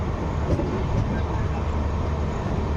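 A moving passenger train on the way to Puri gives a loud, continuous rumble and roar throughout, heard from inside the carriage.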